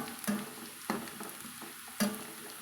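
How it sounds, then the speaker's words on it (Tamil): Garlic and curry leaves frying in hot oil in a pan, a steady soft crackle and sizzle broken by three sharp stirring clinks, with no one talking. "நல்லா பூண்டுலேயும் கருவேப்பிலை இருக்கிற அந்த சலசலப்பெல்லாம் நம்மளுக்கு அடங்கிருச்சுங்க"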